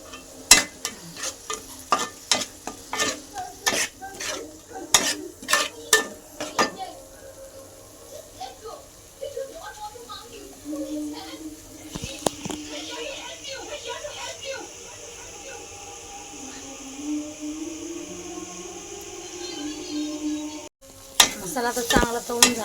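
Pav bhaji masala frying and being stirred in a pan, with scraping spoon strokes and clinks early on and a steady sizzle underneath; someone talks over parts of it.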